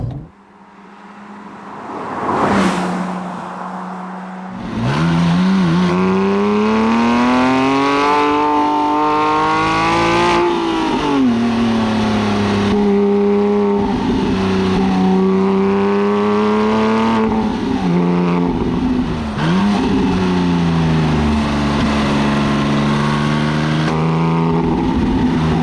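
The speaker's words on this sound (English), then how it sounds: "let's hit the sport button, open the valves in this Brook Race exhaust" Porsche 997.2 GT3 with a Brook Race exhaust, valves open in sport mode, roaring loud and close as it accelerates hard through the gears on a road, rising engine pitch dropping briefly at each shift.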